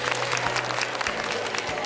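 An audience at an LG Ultra HD product launch applauds with brisk, steady clapping that fills the whole short moment, at moderate loudness.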